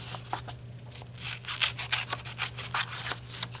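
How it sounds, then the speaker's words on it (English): Scissors cut out a fabric mitten in a series of quick, close snipping and rasping strokes, soft at first and then denser, over a low steady background hum. "Cut off all those pieces."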